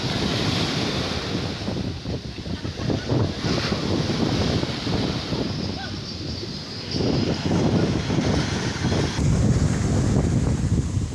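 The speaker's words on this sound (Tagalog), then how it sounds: "Laki ng alon ngayon guys." Sea waves surge and roll against a windy shore, wind buffeting the microphone with a steady roar and swelling breaker noise throughout, louder toward the end.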